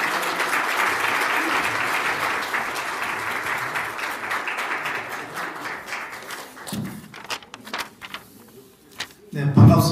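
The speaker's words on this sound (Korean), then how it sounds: "큰 박수로 환영해 주시기 바랍니다." Applause from the audience at a gathering of regional party committee chairs welcomes a speaker to the stage, a dense sustained clapping that fades after about seven seconds, followed by a few thumps and soft noises.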